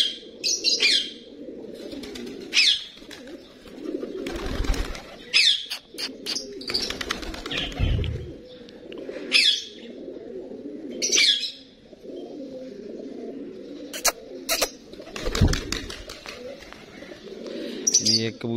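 Pigeons coo in a low, steady murmur at a village breeding setup while wings flap in several sudden bursts, with occasional chirps and a person speaking softly at times.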